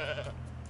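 Goat Simulator video game goat letting out a single short, loud bleat, close and alone.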